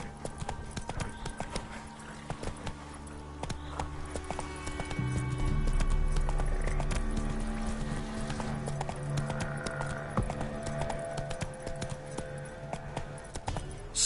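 Roach, a horse in the video game The Witcher 3, gallops in a steady, rhythmic clip-clop of hooves, close and moderately loud. The hoofbeats run over a low game ambience that swells in the middle.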